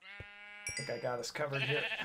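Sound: sheep bleating in Minecraft video game

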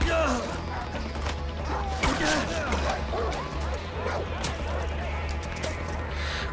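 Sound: dogs barking and biting the player in video game Far Cry 4

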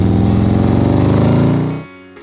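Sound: motorcycle engine

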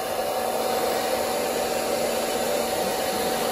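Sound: hair dryer blowing

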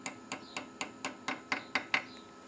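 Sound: hammer tapping extractor into broken tap

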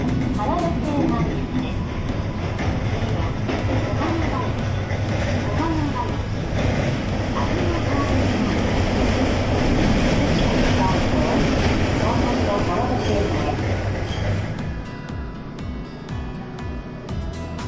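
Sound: Kobe Municipal Subway linear motor train whine

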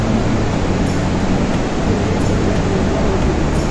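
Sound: waterfall roaring

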